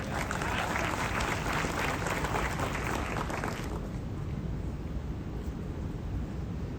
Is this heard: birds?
no